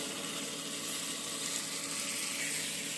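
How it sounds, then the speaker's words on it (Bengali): Mixed vegetables fry in a kadai over a medium to high flame with a steady, even, fairly soft hiss that holds without a break throughout. "সবজিগুলো প্রত্যেকটাই মিডিয়াম টু হাই ফ্লেমের দিকে ভাজাটা হচ্ছে"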